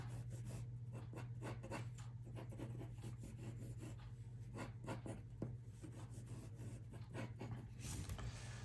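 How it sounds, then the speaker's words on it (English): A pencil draws on paper in soft, quick, scratchy strokes that repeat irregularly, faint and close, over a low steady room hum. "And I don't know, I'm just gonna draw right here."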